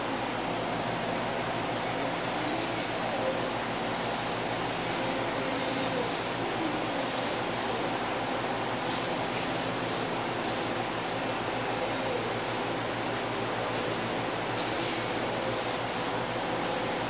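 Spray gun shooting paint onto the front leading edge of a 2011 Honda Odyssey during body repair, a loud steady hiss running the whole time with brief pulses as the trigger is worked.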